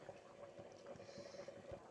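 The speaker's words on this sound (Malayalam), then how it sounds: "കറി തിളച്ചു" A pot of drumstick and lentil curry bubbles softly at a steady simmer, low and close, with faint popping throughout.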